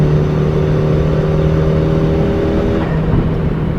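Turbocharged Suzuki Swift Sport ZC31S with dual 38mm wastegates and a blow-off valve, pulling steadily under boost in fourth gear; a loud, continuous engine drone with whirring tones holds throughout, with no talk.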